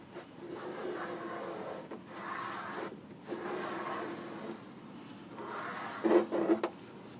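A thumb presses and rubs a TredWear graphic down onto a Ford Bronco door sill, giving soft repeated close rubbing and squeaking strokes in several bursts separated by short pauses, with a brief sharper squeak near the end.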